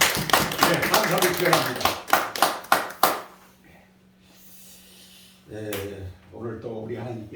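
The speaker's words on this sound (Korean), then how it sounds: "두 분을 세워주신 하나님께와 수고하신 두 분께 우리 한번 힘껏 박수로" A church congregation claps in a burst of strong, rhythmic claps that stop abruptly. Then comes a short quiet stretch with a low hum, and someone speaks.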